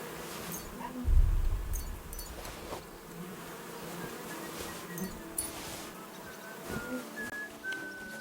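Bees buzz around beehives in Kingdom Come: Deliverance II, with a close, wavering insect drone that swells loudly near the start, then a quieter hum joined by faint whistles and background game ambience.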